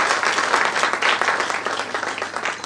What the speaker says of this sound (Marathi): एकदा त्यांच्यासाठी जोरदार टाळ्या वाजवा